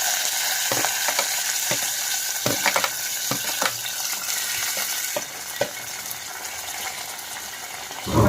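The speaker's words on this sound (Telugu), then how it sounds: "బాగా ఫ్రై చేసుకోవాలి." Onions and curry leaves fry in hot oil with whole garam masala spices for a restaurant-style biryani, a steady close sizzle broken by repeated clicks and scrapes of a spoon stirring the pan, with no talking.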